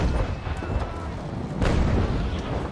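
Bow chaser cannons fire during a naval battle in the game Naval Action, giving dull booming shots, one stronger near the middle, over a rumbling background of wind and sea.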